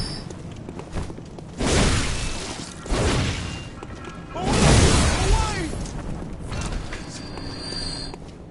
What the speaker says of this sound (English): What is that explosion sound?